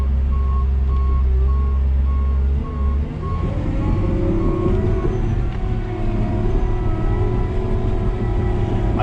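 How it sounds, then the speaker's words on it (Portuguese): A truck passes through an airport runway earthworks and landfill site where a crawler bulldozer works, with steady intermittent reversing beeps over a loud, continuous diesel engine rumble, close by and alone without talk. "Esperar o caminhão passar aqui."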